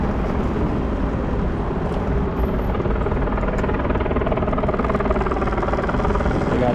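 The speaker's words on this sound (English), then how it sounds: "We got 2 helicopters there." Two helicopters over a Los Angeles protest, their continuous rotor thrum and engine drone filling the air steadily and fairly loudly, with no clear speech.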